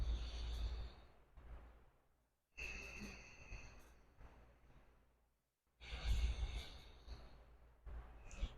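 Slow, deep breaths during a breathing exercise, three long airy exhales, each fading out before a pause, close and clear with no talking.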